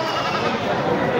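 A castrated goat bleats amid a busy livestock market in Jharkhand, heard as a short, thin call under dense crowd noise and nearby chatter.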